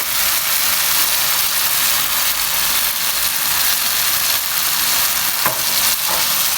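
Bitter gourd, minced meat, fennel seeds and nigella seeds sizzle loudly in a pan while being stirred. The frying hiss is steady and continuous, with occasional scraping knocks of the spoon.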